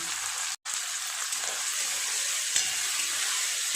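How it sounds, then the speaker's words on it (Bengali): Steady sizzling of onion and tomato frying in a pan, a continuous close hiss with one brief dropout near the start. "টমেটো আর পেঁয়াজটা ভেজে গলিয়ে নেব"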